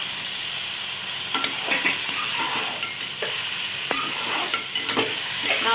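Chicken fries in masala in a pan with a steady close sizzle and hiss. Occasional scrapes and clinks of stirring are scattered through it, with no talking.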